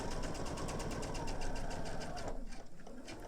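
A sewing machine runs steadily while stitching binding onto a mini quilt, its fast rhythmic needle chatter loud and close, then slowing and stopping near the end.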